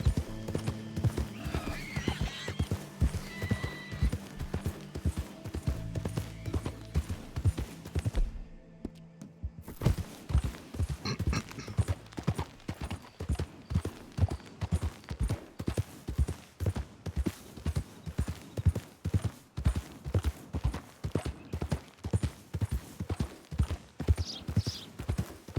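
A horse gallops steadily in Red Dead Redemption 2, its hoofbeats a fast, even clip-clop that runs almost continuously, broken by a brief pause, with an occasional whinny.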